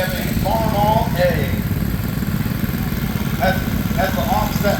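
Steady low chugging idle of a 1941 Farmall A tractor with an offset engine at a steam power show in Sycamore, Illinois, running continuously under people talking.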